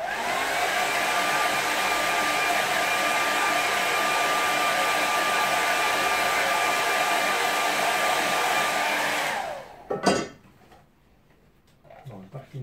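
A hair dryer blows steadily and loudly on a wet watercolour painting for about nine seconds, then cuts off with a small clatter, leaving near silence.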